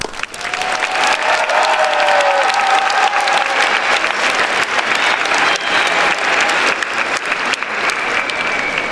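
Audience applause at a university graduation ceremony, loud, dense clapping from a large crowd sustained for nearly nine seconds, with a few cheers rising briefly near the start.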